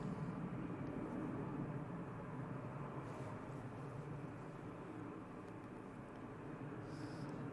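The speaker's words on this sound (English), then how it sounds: "We've got the Ryanair going out now" A Ryanair airliner departs Manchester Airport, a broad steady roar of jet engines that holds at a constant level from a distance throughout.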